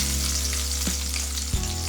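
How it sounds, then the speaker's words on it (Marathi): Onion paste frying in leftover oil in a wok gives a loud, steady sizzle, broken by a couple of brief stirring scrapes. "कढईमध्ये जे उरलेलं तेल आहे ना त्याच्यामध्ये मग पेस्ट टाकायचा."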